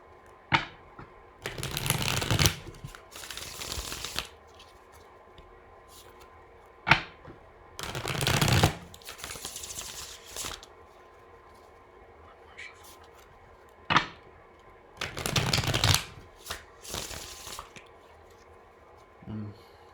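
Tarot cards shuffled in bursts of quick riffling and slapping, several separate rounds spaced across the stretch, close and moderately loud over a quiet room with faint background hum.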